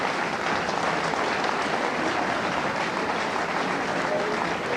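A boxing crowd applauds after the fight between Eamonn Loughran and Judas Clottey, a steady, dense wash of clapping that keeps going evenly through the whole stretch with no single voice standing out.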